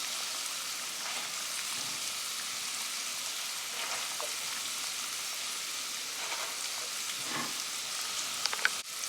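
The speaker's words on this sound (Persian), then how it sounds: "خب آب جوش اومد" Steady, close bubbling and hissing of salted water at a rolling boil in a pot, continuing throughout, with faint clinks near the end.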